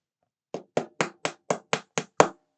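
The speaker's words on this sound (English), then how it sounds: "Hammer that in." Eight sharp, evenly spaced hammer taps driving a pin into a model kit, close and fairly loud, with the last strike a little heavier than the others.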